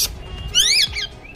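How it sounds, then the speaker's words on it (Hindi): A pet parrot gives a single loud, shrill squawk that rises and falls over about a third of a second, close by, with a fainter squawk after it in a quiet room. "तोता है ना?"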